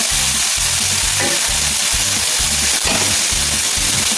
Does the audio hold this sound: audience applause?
no